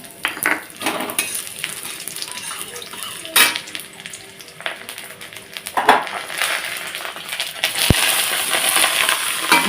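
Mung dal with bay leaf and five-spice crackles and hisses in hot mustard oil in a pan, a steady close sizzle broken by sharp scraping clinks of stirring.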